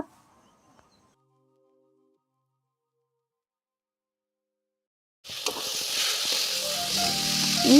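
Chopped tomato frying in hot oil for a mutton biryani, a bright sizzle that starts abruptly after about five seconds of near silence and keeps building, with faint stirring scrapes; no talking.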